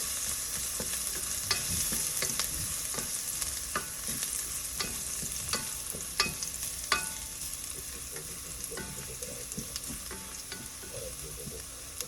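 Minced garlic toasts in a hot pan for a smoky Indian-style pasta sauce, giving a continuous soft sizzle with frequent small crackles and pops throughout, close up and with no talking.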